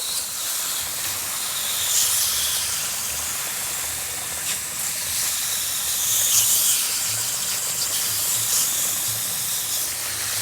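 Water sprays steadily over the coil of a 1969 Fedders air conditioner, rinsing off Nu-Brite cleaner: a continuous close hiss and splatter with slight surges, no talking.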